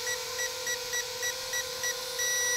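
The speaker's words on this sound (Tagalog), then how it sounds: "Pindutin lang natin yan, magbi-beep." A drone remote controller's trim button sets off a rapid series of short electronic beeps, about eight evenly spaced pips over a steady high tone, ending in one longer solid beep, with no talk.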